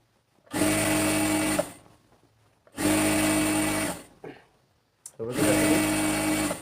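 Sewing machine stitching pants with elastic, running in three loud bursts of about a second each separated by short pauses, with faint talk between runs.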